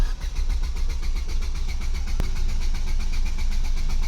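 A Ford Fiesta engine cranks without starting, a steady continuous churning drone with no catch or rev-up, close and fairly loud throughout.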